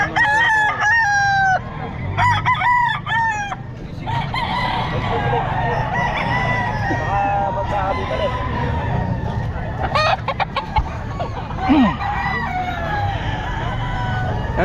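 Lemon sweater gamefowl roosters at a pet market crow loudly and repeatedly, several calls overlapping near and far, mixed with clucking and busy market noise.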